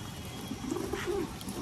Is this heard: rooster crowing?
no